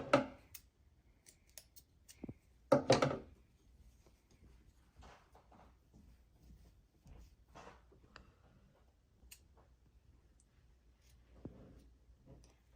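Scissors snip thread in a quiet room, with a few sharp clicks spaced out irregularly, the loudest near the start, and faint handling sounds between cuts.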